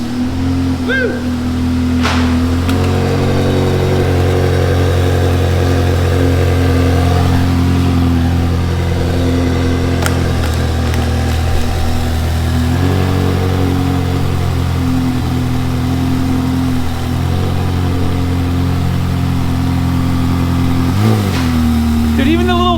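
A flood-damaged Ferrari's engine revs steadily while driving in first gear, a loud sustained mid-pitched drone with rising and falling pitch and a brief dip near the end; people talk and cheer over it.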